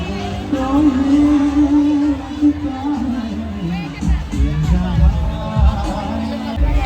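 Close, busy babble from a huge carnival crowd at Kankaria Lake, Ahmedabad, with people chatting all around and bursts of nearby voices and bumps over a steady background murmur.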